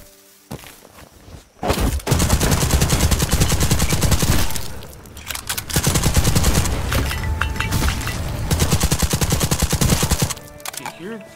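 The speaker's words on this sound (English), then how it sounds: "The SMG seems to be dealing with these knuckleheads nicely" SMG fire in the video game Black Skylands, long loud sustained bursts of rapid automatic shots broken by brief pauses, close and dominant.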